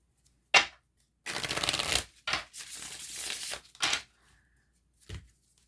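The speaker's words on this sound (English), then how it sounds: "So, I'm going to shuffle the tarot." A tarot deck is shuffled by hand in a few quick riffling bursts, crisp papery rustles broken by short pauses, close up with no voices.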